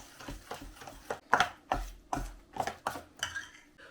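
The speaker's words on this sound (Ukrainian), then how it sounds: "Їх також відправляємо та добре перемішаємо." Gingerbread dough with chopped nuts being stirred in a bowl for Christmas cookies, giving a series of irregular scraping knocks and clinks of utensil against the bowl, fairly close and moderate, with no talk.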